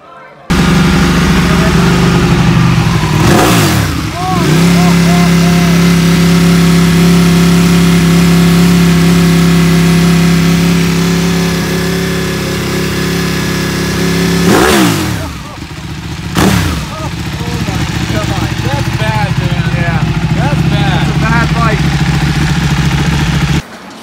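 A motorcycle fitted with a full Akrapovič titanium exhaust system with baffles in runs loud and close, holding a steady drone broken by two sharp revving bursts.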